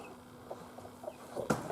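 Soft, scattered clucks from chickens at moderate distance, a few low calls spread out over steady background noise, with one louder burst near the end.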